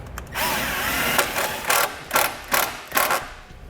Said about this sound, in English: Then take my included self-tapping screw, lay right to the body of the vehicle.